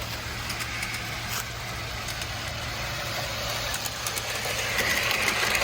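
A small Lionel Pennsylvania Railroad GP38 model locomotive hums and whirs steadily along a track it runs poorly on, close by, with faint clicking and a slight rise in noise toward the end.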